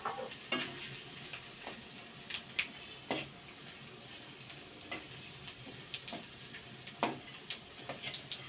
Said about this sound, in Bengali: শুকনো লঙ্কা, গোটা জিরে, তেজপাতা এখানে ফোড়ন দিয়ে দিলাম।